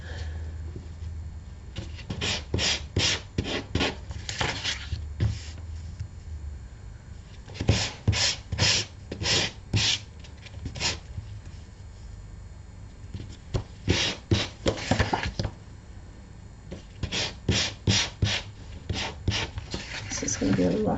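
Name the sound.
sanding wood by hand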